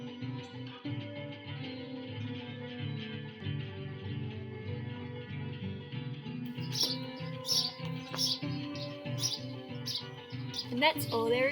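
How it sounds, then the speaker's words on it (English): Birds chirp loudly outdoors, with sharp repeated tweets bursting in during the second half over a steady, dense tonal background. "Those birds are loud."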